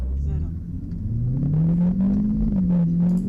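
A car engine revs steadily, climbing into a sustained loud rumbling drone, close by and continuous throughout.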